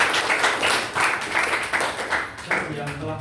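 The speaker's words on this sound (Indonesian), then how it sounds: "Tepuk tangan untuk mereka berdua" Applause for two presenters at a class session, a dense burst of clapping from a group that swells and then thins toward the end, with some voices mixed in.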